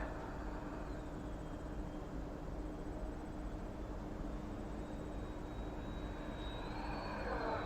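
A model airplane makes a half-throttle pass, a faint, distant engine whine over steady broadband noise that rises slightly toward the end.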